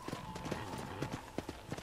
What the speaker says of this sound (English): Is that as fast as you can make your horse walk? Just a little walk right there.